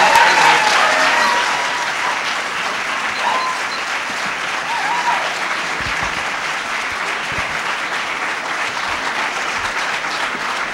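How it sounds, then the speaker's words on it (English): Audience applause at a school board meeting: steady clapping from a crowd that starts loud and stays sustained for about eleven seconds, with faint voices underneath. "I would ask that people hold the applause down"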